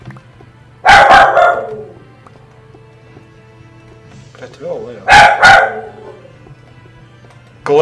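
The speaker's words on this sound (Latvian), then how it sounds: "Stulbais suns, viņš neko nesaprot no dzīves jēgas." A dog barks in two short bursts, loud and close, with voices talking over a steady background hum.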